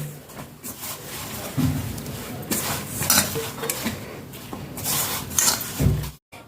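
Momo dough being mixed by hand in a bowl for chicken momos, giving steady clattering, scraping and soft knocking of the bowl close by, with a few sharper clinks and no talk.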